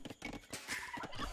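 Turkeys in a strategy video game on a MegaRandom map give short, warbling gobbles and clucks, repeated in a choppy cluster at moderate volume over game background sounds, with no talk.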